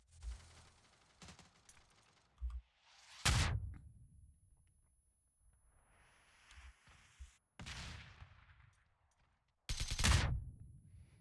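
Several sharp bursts of gunfire in the video game PUBG crack out at intervals, with quieter clicks and shuffling movement in between and no talking.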